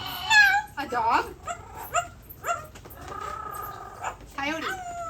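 Performing at a bird show, a rescued parrot mimics a dog with a series of short, close yips and barks, some whiny and whimper-like, in an uneven rhythm with brief pauses between the calls.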